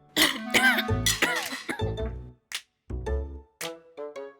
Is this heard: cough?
yes